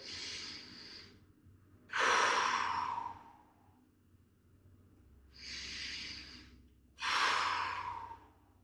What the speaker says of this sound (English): let's do two more deep breaths in